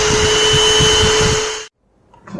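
A RNG EKO GREEN handheld car vacuum cleaner runs with a steady, loud whine and motor drone close by, then cuts off abruptly to near silence.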